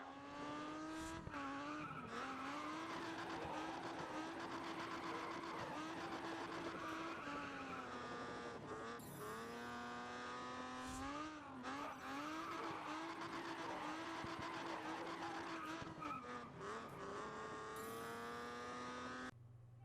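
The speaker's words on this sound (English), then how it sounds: "ease off the gas, steer early from a wide position and feather the gas back to engage a slide" Car drifting in Grid Autosport, engine revving high with repeated long tire squeals and skids that shift in pitch through the slides, loud and continuous with no talk.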